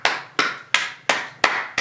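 Audience in the Rose Garden applauding Obama, heard as six crisp, evenly spaced bursts of clapping, each sharp onset fading quickly, fairly close and with no talk.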